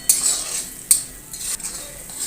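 A spoon mixes salt, red chilli and cumin powder in a pan for dhaba-style chana dal fry, with a few sharp metal clinks and scrapes over a faint sizzle.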